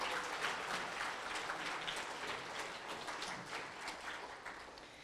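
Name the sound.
audience applause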